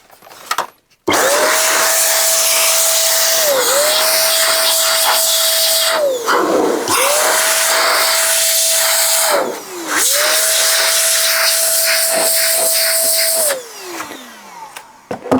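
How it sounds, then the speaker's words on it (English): A loud, steady blast of air clears dust from PC fans and a heatsink in bursts of several seconds, cut by brief pauses. The blower's pitch dips as each burst ends and slowly winds down at the finish. "I think that's all the dust out of the fans and the heatsink"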